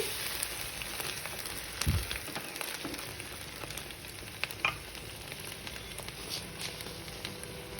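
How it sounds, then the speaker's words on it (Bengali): Chana dal tipped into a hot tempering and stirred in a pan keeps up a quiet, steady sizzle with scattered light scrapes and one soft thump early on. "আমি এবার পুরো ডালটাকে ঢেলে দিলাম দিয়ে একটু নাড়িয়ে নিচ্ছি"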